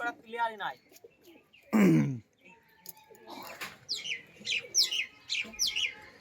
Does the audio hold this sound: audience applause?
no